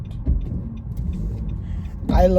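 Inside a moving car on the road, a low steady engine and road rumble runs throughout, with a voice breaking in near the end.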